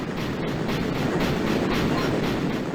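Steady train running in the Zelda game Spirit Tracks, a continuous rumbling rail clatter with rhythmic clickety-clack, loud and constant throughout with no voices.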